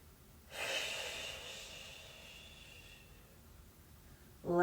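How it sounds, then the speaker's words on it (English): A long, steady breath during a yoga session, heard close and clear. It swells quickly and then eases off slowly over several seconds, with a brief sharp sound at the very end. "2 more inhales here. 2 more long exhales"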